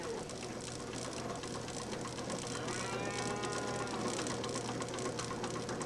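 Dairy cows on a farm low and moo over steady background noise, with a clear drawn-out call in the middle, heard at moderate distance.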